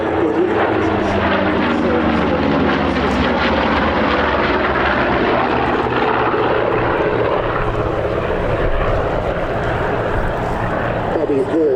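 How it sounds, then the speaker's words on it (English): A Grumman Bearcat propeller fighter roars past at an airshow, a loud steady engine drone with shifting pitch filling the whole stretch as people talk over it. "But the Bearcat, Here it is, here it comes. This is quick, really quick."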